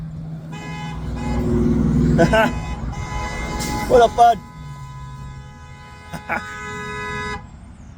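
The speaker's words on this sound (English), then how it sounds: "The dog's honking the horn." Car horn honked inside a parked vehicle, several short toots and a longer blare sounding close and loud, with someone talking casually over and between the honks.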